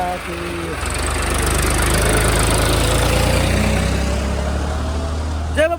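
A tractor engine idles steadily nearby, a continuous low rumbling drone with a faint knocking pulse that holds throughout and cuts off near the end.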